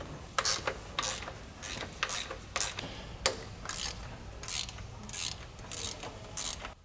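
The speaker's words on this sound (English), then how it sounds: "can then be released in sequence using a quarter drive ratchet with a 10mm attachment" Quarter-drive ratchet with a 10mm attachment loosening the oil cooler bolts on a BMW Z4 3.0si E86 coupe: a series of short, crisp clicking bursts repeating in an uneven rhythm, close and moderately loud, with no talking.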